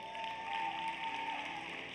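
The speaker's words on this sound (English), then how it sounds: "give her a round of applause." A gathering gives a round of clapping for Sister Tara Hilliard of Rachel's House, a soft, steady applause with a thin tonal hum running through it and no voices.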